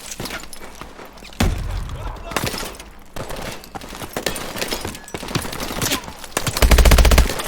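Machine gun fire in the video game Call of Duty Advanced Warfare, long rapid bursts of automatic shots, loud and close, building to a heavy final burst with a voice talking over it.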